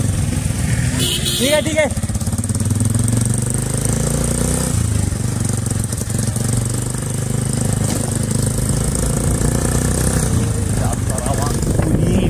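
A motorcycle engine runs continuously while the bike is ridden on a road, with a steady mid-pitched drone under the rider's talking; the sound stays close and loud throughout.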